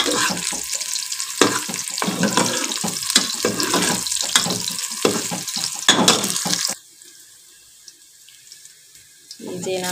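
Onions heat in a pan for masala chana daal, giving a steady, dense sizzle close by for several seconds before it suddenly drops to a much quieter hiss.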